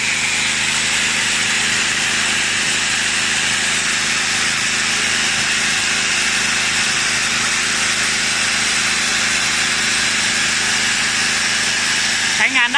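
A steady, loud 800-watt electric drill whine runs throughout, powered by a TAKARA TMV-4000 3 kW gasohol generator, broadband and continuous under load, with a brief change in pitch near the end.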